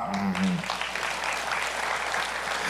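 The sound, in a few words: congregation applauding in church service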